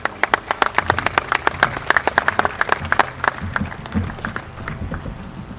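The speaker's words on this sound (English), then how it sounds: "Never been happier to applaud at a graduation than today" A graduation audience at Perry Technical Institute breaks into applause: dense, sharp clapping from many hands close by, strongest early and thinning toward the end, with faint crowd murmur beneath.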